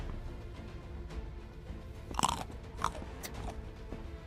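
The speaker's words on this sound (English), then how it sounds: "That you have the crunch sound even when you drink something." In the sky-island block-building game Everwind, a drinking action triggers a crunchy chewing sound: a few sharp crunches near the middle against a low ambient game background, no speech.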